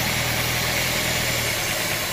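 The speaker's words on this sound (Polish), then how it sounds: "Wessało, a silnik dalej pracuje. Trochę słabiej, ale pracuje." A Ford Mondeo mk3 with the Duratec HE petrol engine idles steadily with its throttle body blocked, a close, even mechanical drone and hum without speech.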